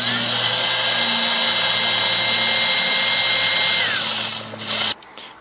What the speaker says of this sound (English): Then get your drill with the small drill bit